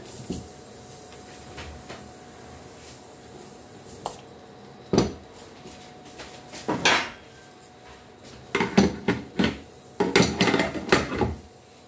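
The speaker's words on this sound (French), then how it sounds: "Et là, on va fermer notre cocotte." Lid set on a cocotte cooking pot while tripe cooks, a few sharp metallic clanks and rattles spaced apart, then a quick cluster of clattering knocks near the end over a faint steady hiss.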